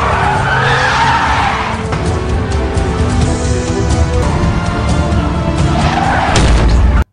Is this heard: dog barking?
no